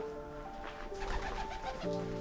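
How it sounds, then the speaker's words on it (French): Pigeons coo inside a stone watchtower of a castle ruin, soft repeated cooing calls echoing close by over a steady ambient hum. "Ah, il y a des pigeons."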